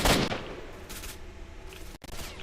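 Gunfire in the shooter STALKER Shadow of Chernobyl: a loud shot at the start, then repeated distant shots and bursts over a rumbling battle background.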